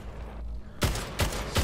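Gunfire in the Splitgate video game, shot through portals, comes as three sharp, loud bursts about 0.4 seconds apart that follow a low rumbling lead-in.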